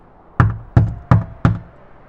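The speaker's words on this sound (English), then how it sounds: "It took a few knocks to bring her to the door" Four firm knocks on a door, evenly spaced and close, each a dull hollow thump with no voices.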